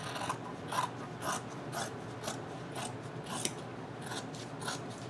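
Scissors snip through quilting-cotton fat quarter fabric to cut pieces for a ponytail scrub cap, a steady series of crisp, close cuts repeating roughly every half second with no talking.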